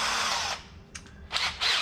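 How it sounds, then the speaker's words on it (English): A power drill fitted with a very thin bit bores through two pieces of wood while building a custom box, giving loud close bursts of high whirring broken by short pauses. "We drill through, as you can see with these other holes, we drill through 2 pieces of wood"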